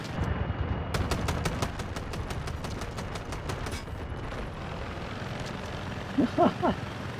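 Automatic gunfire rings out in the video game Delta Force, a long, even burst of rapid shots over a steady engine-like drone. The firing stops and then someone shouts briefly.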